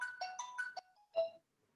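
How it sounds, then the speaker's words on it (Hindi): A phone ringtone plays a short melodic run of bright chiming notes that ends on a longer held tone, then stops, with no talking over it. "किसी का फोन आ गया"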